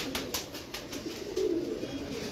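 Pigeons coo in soft, repeated low murmurs at a breeder's loft, with a few brief sharper sounds over steady background noise.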